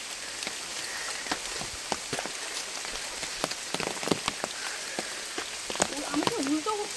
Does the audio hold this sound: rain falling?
yes